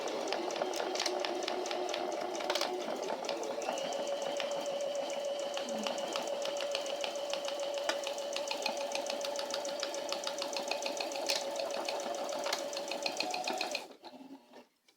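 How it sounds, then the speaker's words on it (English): A sewing machine runs steadily and close for about fourteen seconds as it stitches one side of a project, a continuous whirring hum with fine rapid ticking, stopping abruptly near the end. "So we're gonna actually sew the one side up first and get that out of the way."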